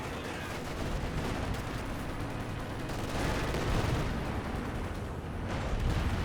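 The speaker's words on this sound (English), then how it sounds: "And now I got some more artillery being brought on in from somewhere." Artillery fire during a World War II battle in the strategy game Company of Heroes: a continuous, heavy roar of booming impacts and crackling gunfire, dense and steady with no quiet gaps.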